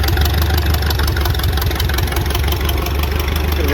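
The engine of a 1920 Allis Chalmers 6-12 tractor runs steadily and loudly up close, with a deep, even, thumping idle and no pauses.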